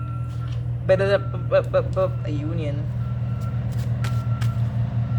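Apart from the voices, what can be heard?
truck reversing beeps outside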